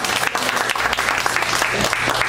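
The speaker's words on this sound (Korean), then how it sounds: "박수 칠까요?" A church congregation breaks into dense, steady applause, loud and close, with many hands clapping together continuously and no talk over it.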